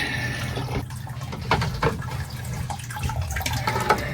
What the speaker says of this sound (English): you want to drain it completely out to get that sediment out